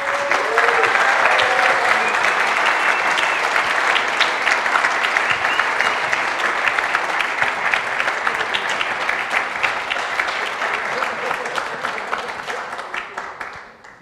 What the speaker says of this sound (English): Round of applause all around.